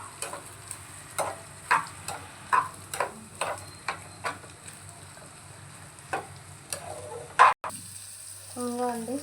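Garlic and onion pieces are stir-fried in a pan for egg noodles: rhythmic spatula scrapes and taps, about one per second, over a low, constant sizzle.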